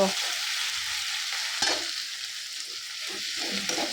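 Golden spices frying in a pan give a steady, close sizzle, with stirring scrapes breaking through now and then, the loudest near the middle. No one speaks.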